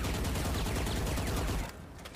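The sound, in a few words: gunfire spray in Valorant video game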